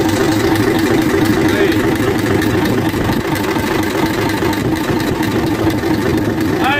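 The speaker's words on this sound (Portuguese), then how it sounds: "Olha o motor funcionando aí, ó." An old 1974 Alfa Romeo/FNM engine, long unused, idles loudly up close, a rough, steady chugging rumble with a faint knocking beat throughout.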